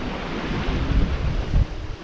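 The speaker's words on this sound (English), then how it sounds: "there's a lovely big ocean swell coming in" Ocean swell rolling past a single-handed sailboat far out at sea on a Bay of Biscay crossing from Ireland to Spain: a steady broadband wash with low rumbling surges and buffeting wind, no voices.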